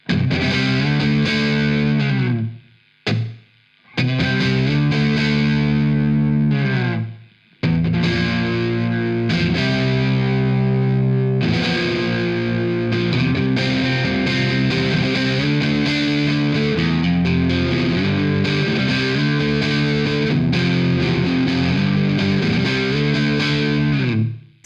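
A 2022 Fender Player Telecaster on the neck pickup through a Tube Screamer, strumming warm, gritty overdriven chords with two short pauses early on, then continuous loud rhythm playing with no voices.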